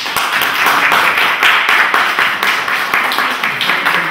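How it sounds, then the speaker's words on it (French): Steady, dense clapping from an audience at an International Human Solidarity Day gathering, loud and close, running evenly for a few seconds with no break. "Nous le saluons aussi avec nos applaudissements."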